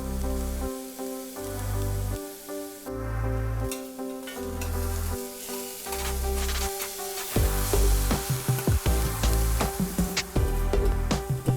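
Carrot and capsicum stir-frying in a pan give a steady sizzle and crackle, with stirring scrapes and clatter growing busier toward the end; no one speaks.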